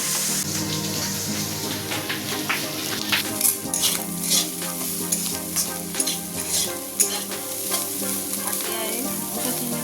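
Potato bhaji stir-frying in a pan: continuous soft sizzling with repeated scraping and clinking of a spatula stirring, close and steady, with no talking.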